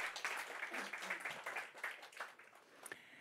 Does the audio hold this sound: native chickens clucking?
no